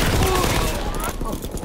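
Rapid gunfire crackles through a World War II shooter game beta, a dense, loud, continuous fusillade of overlapping shots filling the whole short moment.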